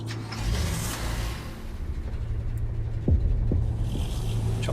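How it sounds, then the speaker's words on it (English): A car engine in a post-apocalyptic survival video game hums with a low, steady throb, close and continuous, with a couple of brief knocks partway through and no talking. "Sounds like I'm getting back in my car."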